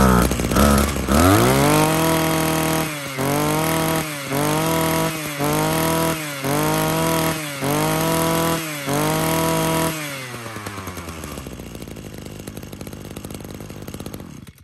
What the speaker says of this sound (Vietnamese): Con máy cắt cỏ Ryobi nòng 34 ly công suất 26cc.